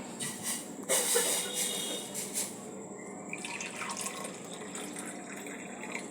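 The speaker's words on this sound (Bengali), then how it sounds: "সেরকম গরম জল পড়বে এই দেখো" Warm water poured from a kettle or jug, splashing and trickling loudly at first, then settling into a softer, uneven stream that fades over a few seconds.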